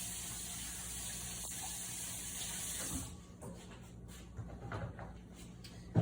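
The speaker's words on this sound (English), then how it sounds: "I'm gonna go ahead and wash my hands super fast because it got a little messy." Hands being washed under a running kitchen tap, a steady gush of water for about three seconds, then a splashy rubbing and rinsing sound without the constant flow.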